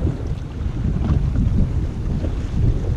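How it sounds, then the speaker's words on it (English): Strong wind buffets the microphone on a kayak while fishing on the water in central Queensland, Australia, a loud, continuous low roar with gusty swells and faint water wash beneath. "wind has really picked up"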